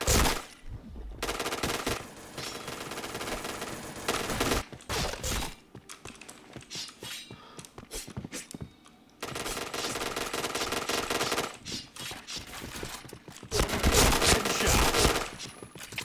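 Bursts of rapid automatic gunfire from a first-person shooter video game, loud and close, come in long stretches separated by brief pauses, with dense rattling shots throughout.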